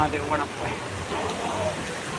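Heavy rain pours down in a dense, continuous hiss close by, steady and loud throughout, with a voice speaking over it.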